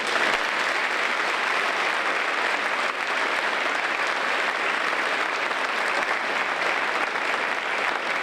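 Parents in an audience applauding students at a school celebration of student excellence, dense sustained clapping that stays steady and full throughout.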